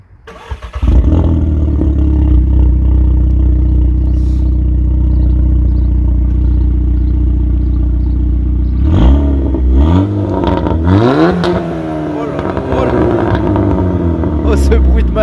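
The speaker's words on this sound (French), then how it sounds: "Donc là le frérot il va démarrer la S3 et qui va bien chanter je pense." An Audi S3 fires up and settles into a loud, steady idle close by, then gets several sharp revs with rising and falling engine pitch near the end.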